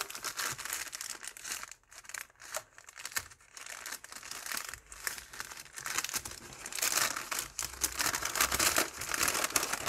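A plastic packet holding rubber stamps is torn open and handled, giving close, loud, irregular crinkling and crackling bursts with brief pauses, continuing for about ten seconds without talk.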